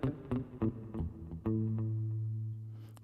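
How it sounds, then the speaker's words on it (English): Korg Pa5x keyboard playing its tele-mute guitar sound: a few short, choppy palm-muted plucks followed by one longer sustained note that fades, close and alone. "that second sound is a sound called a tele-mute"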